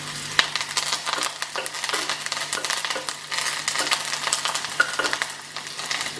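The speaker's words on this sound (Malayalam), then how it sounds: "ഒന്ന് മൂപ്പിച്ചെടുക്കുക. അതിനോടൊപ്പം കുറച്ച് വേപ്പില കൂടിയിടാം." Spices and curry leaves crackle in hot oil in a pan for a Kerala-style egg curry with coconut. The sizzle is steady and close, with sharp pops scattered throughout and no talking.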